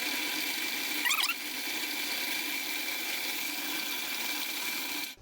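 A machine grinds a stone sphere, giving a steady, close abrasive hiss and whir with a brief squeal early on, running until it cuts off abruptly at the end.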